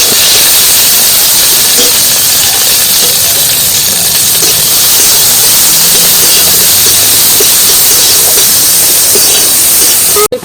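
Garlic, onion and green chili fry in hot oil with a loud, continuous close-up hiss that barely changes, ending with a short clatter.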